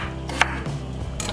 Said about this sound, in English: I'm gonna chop up my potatoes